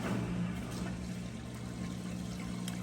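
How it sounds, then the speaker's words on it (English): A Whirlpool Cabrio washer drains before the wash begins, giving a steady low pump hum under a soft rushing of water, quiet and continuous. "It's running the drain there, just to make sure there's no water in it before it gets started."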